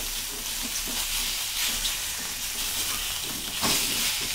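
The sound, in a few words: char kway teow noodles sizzling while frying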